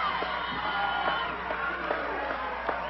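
Wrestling crowd at an Oregon Wrestling Federation match between "Mean" Mike Miller and Cpl Kirchner, a steady roar of shouting and cheering voices with scattered whoops rising over the din, filling the hall throughout.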